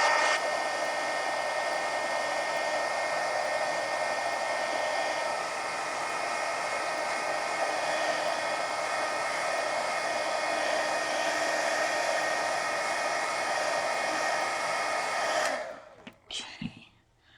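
A hair dryer drying a mixed media red panda painting blows as a steady, loud close roar for about fifteen seconds, then cuts off, leaving a few faint clicks and handling noises.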